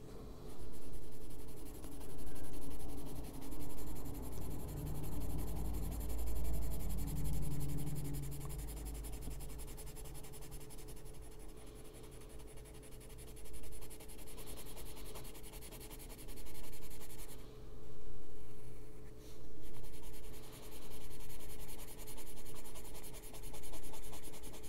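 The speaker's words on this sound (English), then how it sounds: "we're going to take the cream and kind of go over it and burnish that in a little bit" A cream-colored pencil burnishes a coloring book page with steady, close scratchy strokes that rise and fall in rhythmic passes, quiet and alone.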